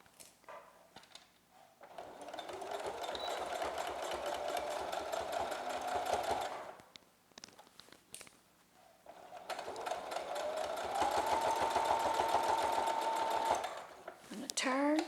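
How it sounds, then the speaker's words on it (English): A sewing machine stitches a fabric face mask about a quarter inch from the edge in two long runs, pausing briefly in between, its steady rapid whir close and loud with a voice speaking over it at times. "now we're going to stitch about 1/4 inch away from the edge"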